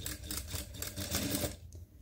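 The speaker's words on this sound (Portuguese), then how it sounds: "agora eu vou estar costurando aqui, prender esse cos" A sewing machine stitches a waistband onto trousers with a brief, fast, steady mechanical whirr and rattle, heard close and fairly quiet before it stops.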